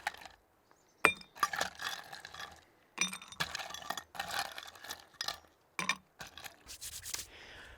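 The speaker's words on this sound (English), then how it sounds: "So, gonna fill the glass up with some small bar ice." Small bar ice being scooped and dropped into a glass for a Picon Punch, a series of close crunching, scraping and clinking bursts separated by brief pauses, with no talk.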